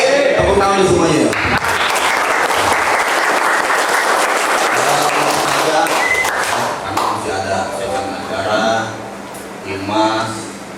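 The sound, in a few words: audience applause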